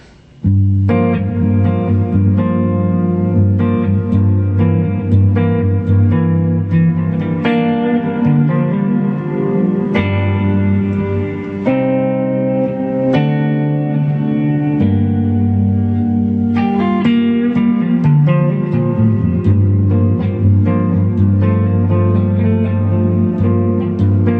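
An electric guitar through a Blackstar HT20 Mark II amplifier plays strummed chords and picked notes with a full, slightly driven tone and some reverb, continuous and loud.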